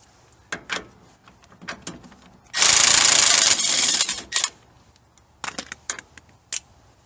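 Removing a nut from the front suspension of a 2003-2006 Lincoln Navigator during strut replacement: scattered metallic clinks and taps, then a loud, sustained burst of tool noise lasting nearly two seconds, then more sparse clinks.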